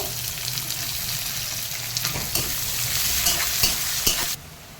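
Chopped onion hitting hot oil with garlic gives a steady, close sizzle and fry, with occasional stirring scrapes and clatters, before it cuts off abruptly near the end.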